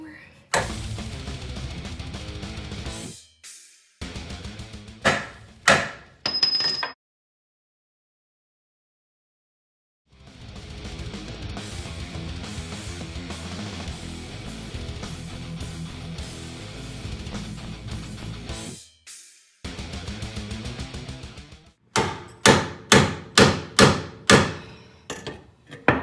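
Bursts of sharp, repeated hammer impacts, several quick strikes in a row, close by and loud, separated by pauses and stretches of busy clattering, while replacing lower control arm bushings on a Honda Civic.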